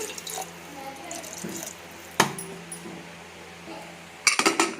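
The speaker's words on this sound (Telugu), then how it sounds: "ఇందులో కొద్దిగా తగిన నీళ్ళు పోసుకుని" Water is poured into a pot of potato curry with a soft, running splash, followed by a couple of sharp metallic knocks and clatters nearby.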